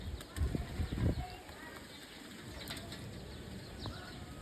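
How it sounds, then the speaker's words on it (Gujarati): A pigeon bathing in water makes a couple of quick flurries of wing flapping and splashing early on, then the clip settles into quieter rustling and faint bird sounds. "જોવો ખાલી તમે કબૂતર."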